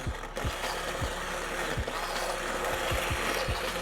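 An immersion stick blender purees vegetables in a shallow soup pot, a continuous loud whirring drone with repeated low thunks as the head bumps and churns through the chunks, close by and without talk.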